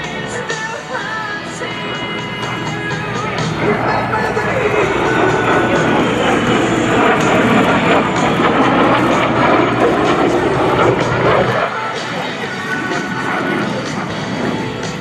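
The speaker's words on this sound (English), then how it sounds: "What he'll show you here is the slow roll capability of this highly maneuverable jet aircraft" A T-33 Shooting Star jet rolls slowly over the Great Texas Airshow, its broad roar swelling and peaking before cutting away abruptly near the end, with commentary over the loudspeakers mixed in.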